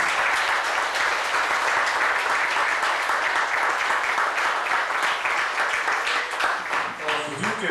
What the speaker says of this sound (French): on en a une bonne main d'applaudissements